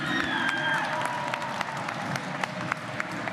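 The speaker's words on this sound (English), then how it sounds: "Big round of applause one more time." A crowd applauds steadily at a Counter-Strike esports championship final, a dense wash of clapping with a few louder claps standing out, fairly close and continuous throughout.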